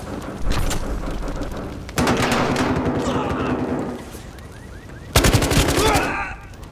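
Heavy assault rifle fire from the video game Battlefield Hardline, loud rapid bursts in three stretches separated by sharp onsets, with dense automatic shots crackling over the game's battle noise.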